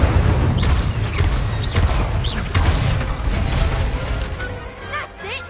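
Spell effects crash and boom in a Hogwarts Legacy battle, a dense, loud barrage of magical impacts and whooshes layered with game sound, gradually thinning toward the end.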